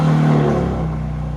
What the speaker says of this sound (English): in person the valve change is ridiculous. That is courtesy of the Dynon exhaust.